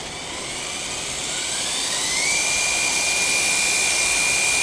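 A WLtoys A959 RC car's electric motor revs up, a loud high whine that climbs steadily in pitch as it accelerates, holding near and continuous with no talking.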